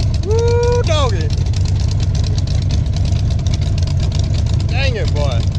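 A loud drag car engine idles with a choppy, lumpy cam rumble throughout while a voice briefly exclaims at the start and near the end.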